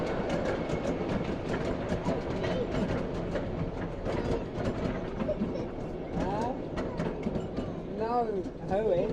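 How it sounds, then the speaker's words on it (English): A 7 1/4 inch gauge miniature railway locomotive rolls along its track with continuous rhythmic wheel clatter and rumble, while people talk nearby and brief squeals rise toward the end. "And again, this track heads all the way down to another turntable. And the loco will do another run around."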